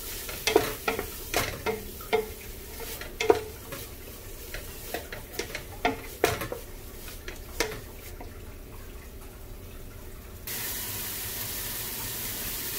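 Enchilada ingredients fry gently in a pan with a soft continuous sizzle, punctuated by repeated sharp clicks and taps of stirring spread across the first half, then a steadier hiss toward the end.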